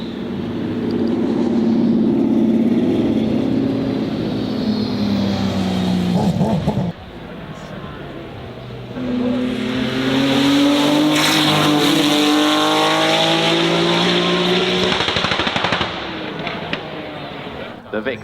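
An Aston Martin Victor race car, a late-1970s-styled Aston with big horsepower, climbs the Goodwood Festival of Speed hill. Its engine howls and rises loud and near, drops off abruptly, then climbs through gear changes to a second hard-revving surge.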